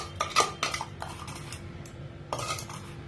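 A metal spoon mixes a fried tempering of urad dal, mustard seeds and asafoetida into blended tomato coriander chutney, giving close scraping clinks against the bowl in several short bursts separated by quiet.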